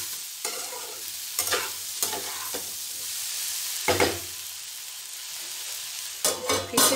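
Raw papaya bhujia frying in a pan, stirred in bursts of spatula scraping over a continuous close sizzle, with pauses between the strokes.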